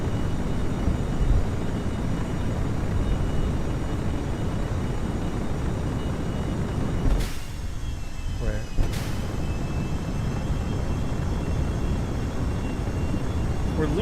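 A fixed-wing aircraft in Kerbal Space Program drones with a steady, dense engine roar that barely changes, apart from two brief dips and crackles near the middle.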